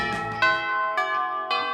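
A bell chime from the video game Monster Prom rings out in four bright, ringing strikes spaced roughly half a second apart, each note sustaining and overlapping the next, fairly loud and clear with no talking.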